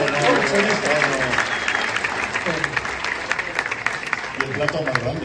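Applause for a secretary in a classroom-style setting, a burst of many hands clapping steadily and fairly close, with voices talking over it throughout.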